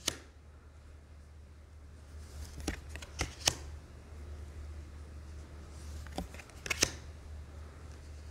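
Several quick riffling bursts of a card deck being shuffled, crisp and close, separated by quiet pauses, with a couple of soft taps.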